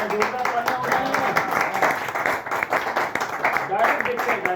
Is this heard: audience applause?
yes